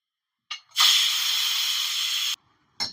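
Steam bursts from a pressure cooker after mango dal is cooked, a short puff, then a loud steady hiss lasting well over a second, cutting off and starting again.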